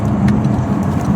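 Mercedes S550 luxury sedan driving, heard as a steady low road and engine rumble from inside the car, with no voices over it.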